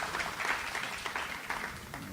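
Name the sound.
audience applauding themselves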